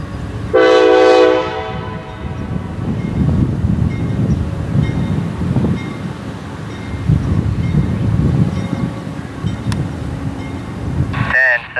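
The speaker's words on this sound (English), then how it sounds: "here comes a light engine move at 11:22 a.m." A CSXT light engine move, with locomotives only and no cars, passes close by, loud and steady. A strong horn blast opens the pass, the engines rumble throughout, and wind buffets the microphone before the sound cuts off abruptly.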